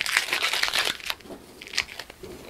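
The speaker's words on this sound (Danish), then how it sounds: "Jeg har lige tape på for lige at gøre kanten så pæn som muligt." Tape crinkles and tears along a workshop shelf edge in a dense burst of rustling, then a few quieter crinkles follow, close and alone.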